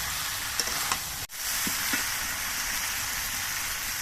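Mixed vegetables for a white shukto, cooked without turmeric, sautéing with ginger paste in a pan, a steady broadband sizzle with a few soft stirring knocks and one brief dropout, no talking.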